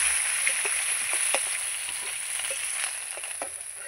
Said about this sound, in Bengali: এই দেখুন উল্টে পাল্টে এগুলো লাল লাল করে ভেজে নিয়েছি।